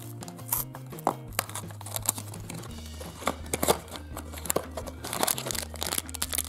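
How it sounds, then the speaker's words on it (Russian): An Angry Birds Sweetbox package is torn open, with close, irregular crinkling and rustling of a plastic wrapper, sharp crackles and tearing bursts over a low background hum, no talk. "Теперь давайте откроем коробочку от свитбокса Angry Birds."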